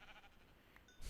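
Sheep bleating in the video game Don't Starve, one short faint bleat set against soft background game music.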